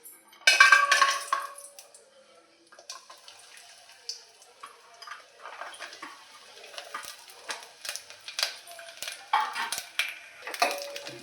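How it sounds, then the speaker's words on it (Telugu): Coconut, cashews and raisins fried in ghee with crushed cardamom, heard as a burst of hot spluttering followed by irregular clinks, scrapes and crackles of a spoon stirring in the pan. "నెయ్యిలోనే వేయించుతూ ఉన్నాను"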